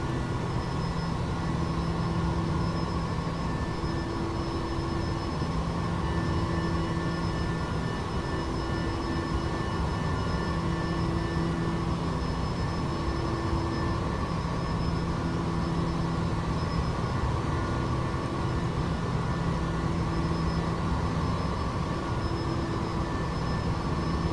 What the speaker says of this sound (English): let me know how my sound is, if the aircraft's too loud